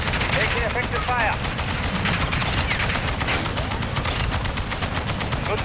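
Dense, continuous gunfire from a naval broadside battle game, machine-gun bursts and heavy volleys rattling loudly with no break, plus a few faint voice fragments buried underneath.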